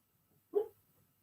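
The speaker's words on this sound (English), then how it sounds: "He even barks in his sleep." A dog gives one short, soft bark, close by, in a quiet room.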